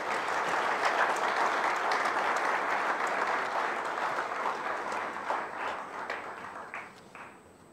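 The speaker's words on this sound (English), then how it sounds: "May I request all of you to give a big applause to welcome our chief guest" Audience applause welcoming the chief guest at a business school commencement ceremony, a steady, dense wash of many hands clapping that holds for several seconds and then slowly thins and fades.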